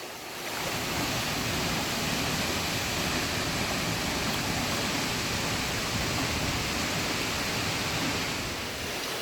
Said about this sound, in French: Et voici le derrière de la cascade